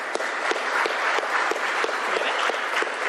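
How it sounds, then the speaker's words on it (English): Steady applause from an audience at a bill signing, honoring a state representative who sponsored the legislation; dense, even clapping fills the whole stretch without pause. "Give her and her young one here a round of applause"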